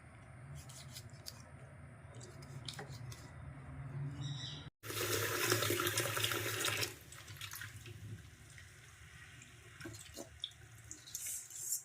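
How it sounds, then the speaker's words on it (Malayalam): Squid being rinsed under a running kitchen tap, with a soft steady trickle of water, then a louder gush splashing into a sink or bowl for a couple of seconds before settling back to a quieter flow. "കഴുകി നമ്മൾ ഒരു പാത്രത്തിലേക്ക് എടുക്കുന്നു"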